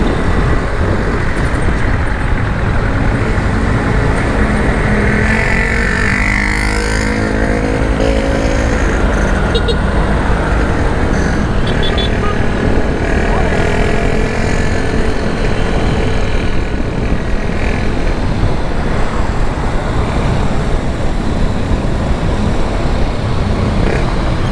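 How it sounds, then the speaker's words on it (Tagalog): Steady road traffic in a jam toward Commonwealth at around six in the evening, a continuous broadband rumble of idling and creeping cars, motorcycles and larger vehicles filling the whole stretch, with some faint talk mixed in. "Hanggang Commonwealth pa tong traffic na to"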